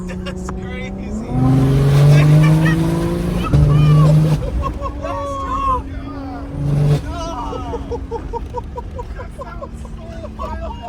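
A 900 whp BMW G80 M3 with the S58 engine and a Valtronic titanium exhaust revs hard in loud, rising bursts nearby, then settles to a lower drone while excited people talk and shout over it.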